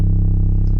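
A heavy, sustained 808 bass from the Westbound kit in FL Studio, a deep booming low tone that rings steadily and loudly for under a second with no talk over it.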